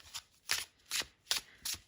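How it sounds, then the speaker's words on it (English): Tarot cards from a Halloween-themed deck being shuffled by hand, five quick sliding riffles in an even rhythm, close and fairly quiet with no talk. "All right, so I'll shuffle. You can see how they shuffle."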